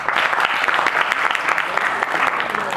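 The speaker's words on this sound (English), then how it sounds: "Give her a round of applause." A lecture audience applauds steadily throughout, dense overlapping claps at a fairly loud, even level.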